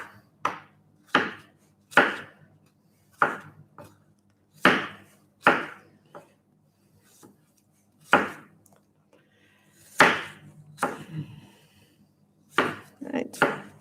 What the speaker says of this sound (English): So we'll just chop the apple up.